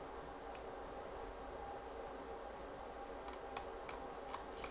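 A few faint, sparse keyboard clicks sound near the end over a steady low hiss, with no talk.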